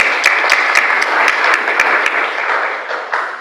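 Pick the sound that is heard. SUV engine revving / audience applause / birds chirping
audience applause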